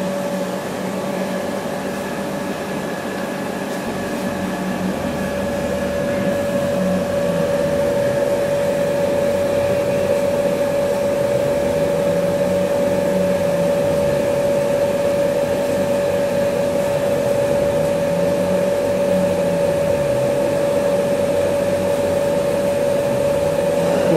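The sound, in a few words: Keyland laser cutter running after pressing Start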